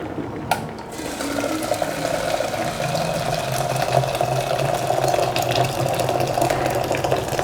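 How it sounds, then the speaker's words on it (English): Boiling water pours steadily into a thermos with a continuous gurgling rush, close by, lasting several seconds after a brief clank at the start. "So I'm filling the thermoserver with boiling water."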